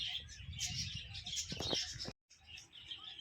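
Birds chirp and tweet in an aviary cage at Bokaro Nehru Park, with bright overlapping calls and a cluster of sharper notes near the middle. A brief silent gap breaks the chatter before it resumes.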